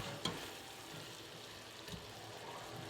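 Onions and garlic softening in a pot for garlic soup give off a quiet, steady sizzle with a couple of soft clicks of a utensil.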